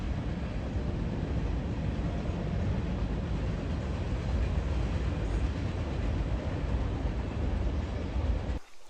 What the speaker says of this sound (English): Probably hear a train at some point.